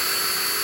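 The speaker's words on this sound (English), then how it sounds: "now I'm gonna take the drill" A power drill bores a hole in a plastic bumper plug on a 2020 Dodge Challenger Scat Pack, giving a brief, loud, steady whirring drone close by with no voices.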